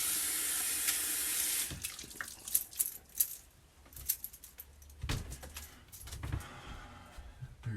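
Tap water running into a sink while shaving gear is rinsed, a broad steady rush early on that gives way to scattered clinks, splashes and handling knocks nearby.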